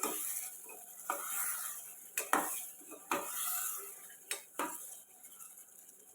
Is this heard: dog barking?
no